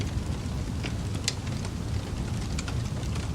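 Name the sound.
fireplace soundscape played in the Liven app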